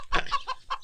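A chicken clucks in a short burst of three or four quick, throaty calls, close and clear against near silence.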